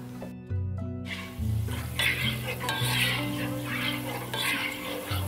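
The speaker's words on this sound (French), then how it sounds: "On ajoute l'huile de tournesol et je fais dorer le pignon de pain." Pine nuts fry golden in sunflower oil in a pan, with a steady close sizzle and repeated scraping stirs, over a low background hum.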